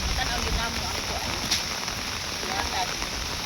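Heavy rain pours down near a highway as a dense, continuous hiss that stays steady and loud throughout, with scattered heavier drops splashing in the wash.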